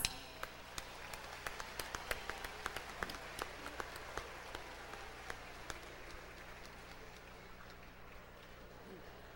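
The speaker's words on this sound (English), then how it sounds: "Let's give them one more round of applause." An audience at a Pacific University lu'au show gives scattered applause, distinct hand claps ringing out one after another over a low room hum and gradually thinning out.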